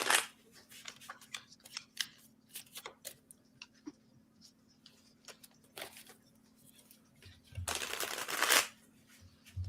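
Cards are riffled and shuffled in several quick bursts, with soft clicks and flutters between them and a longer, louder riffle near the end.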